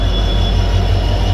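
A train pulls into Rewari station from the Charkhi Dadri direction with a loud, steady rumble of wheels and carriages close by, a low throb running under a broad metallic hiss throughout, with no talking.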